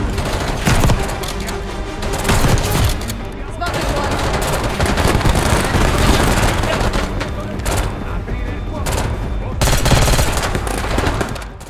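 Rapid bursts of automatic gunfire rip through a casino heist in the video game Black Ops 6, loud and continuous with overlapping volleys and booms, while voices talk over the shooting.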